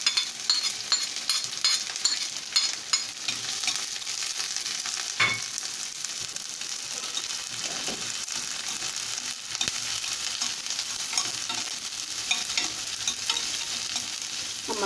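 Onions dropped into hot oil for chicken liver frying, giving a dense continuous crackling sizzle with frequent stirring clatter and scraping, close and steady throughout, no voices.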